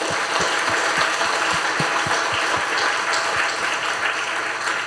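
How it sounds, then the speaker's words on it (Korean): An audience at a church anniversary celebration service applauds in a continuous, loud wash of clapping with a faint low rhythmic thumping underneath throughout. "석성환 장로님 큰 박수 한번 보내주세요."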